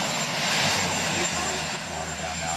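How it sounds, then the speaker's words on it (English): Marine One, the presidential helicopter, roars steadily with a dense, unbroken engine and rotor wash outside the White House, loud and close throughout. "As the jet engines roar on Marine One"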